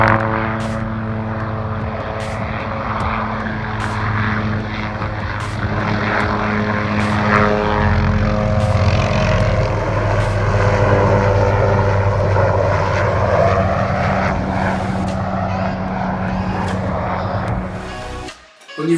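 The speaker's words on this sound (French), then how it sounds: "les épandages d'engrais et pulvérisation se font par hélicoptère pour une bonne partie" A helicopter spreading fertilizer over a dairy farm in hilly New Zealand country drones loudly and steadily overhead, with a constant rotor and engine hum that cuts off abruptly at the end.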